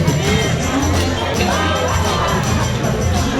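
Guests at a wedding reception clap and cheer loudly in a dense, continuous wash of crowd noise, with shouts rising above the applause.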